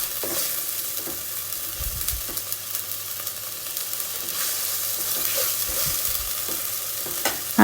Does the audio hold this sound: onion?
yes